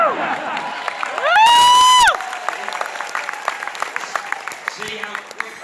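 A fan audience cheers and applauds at a Stan Lee event. A loud whoop cuts through the crowd noise, then steady clapping and scattered shouts carry on.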